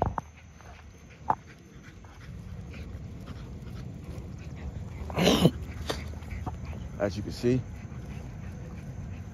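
A Camelot dog, a young female named Gucci, gives a few short, high whimpers and whines outdoors while someone talks over them.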